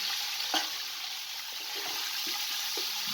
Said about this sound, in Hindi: अच्छे तरीके से 5 मिनट तक भून लें ताकि चिकन का कच्चापन ख़त्म हो जाए।